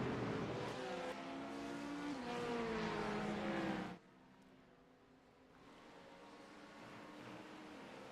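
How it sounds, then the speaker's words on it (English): GT3 race cars in the iRacing sim at Road Atlanta: a loud engine howl that rises and shifts, then cuts to a quieter, distant drone of cars circling further back. "A couple of cars going around at the back."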